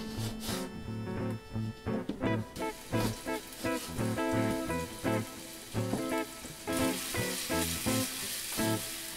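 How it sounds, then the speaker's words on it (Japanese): Mushrooms and onions fry in oil in a frying pan with a steady sizzle, partly under rhythmic background music. "先ほど使ったフライパンに油を敷き、キノコと玉ねぎを入れる。"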